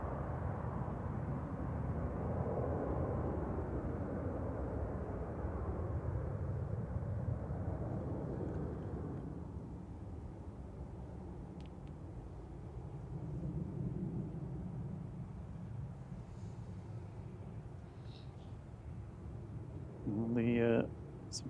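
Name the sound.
Ryanair plane departing for Bratislava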